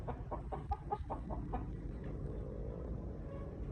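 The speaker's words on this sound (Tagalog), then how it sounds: "That is Pecom, light side, Boston Roundhead." Boston Roundhead gamefowl rooster, a light-side Pecom bird about eight months old on a backyard gamefarm, gives a short run of rhythmic clucking calls at moderate distance over steady low background noise.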